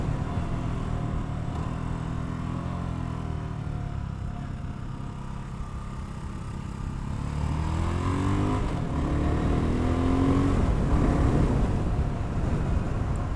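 A BSA Gold Star 650 single-cylinder motorcycle being ridden, its engine a low continuous drone mixed with wind rush, dipping mid-way and then rising in pitch and volume as it pulls harder, with no talk.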